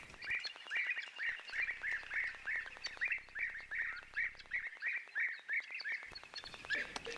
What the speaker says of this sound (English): So a rather decent flock of guinea fowl on the other side there.